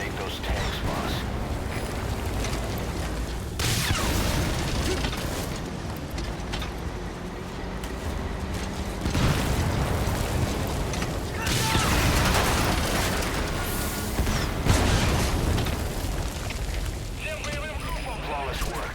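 Tanks being blown up in Metal Gear Solid V: heavy booming blasts and rumbling bursts repeat through a dense, loud battle soundscape, with gunfire-like crackle and a voice speaking over the action.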